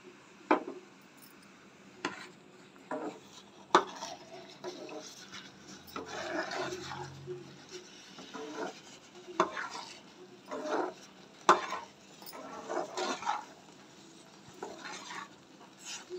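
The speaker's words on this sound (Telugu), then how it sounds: "ఇలా వచ్చాక కొంచెం కొంచెం నెయ్యి వేసుకుంటూ తిప్పుతూ ఉండాలి." A spoon scrapes and clinks against a pan while food is stirred with ghee, irregular knocks and soft scraping strokes over quiet kitchen background.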